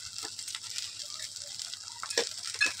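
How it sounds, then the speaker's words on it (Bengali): Potato filling for egg devil chops being stirred and fried in a kadai, a steady quiet sizzle with soft scraping strokes of the spoon and a few louder clinks near the end. "আমি প্রায় 10 মিনিট মতো একটু কড়াইতে ভালো করে নাড়াচাড়া করে নেবো"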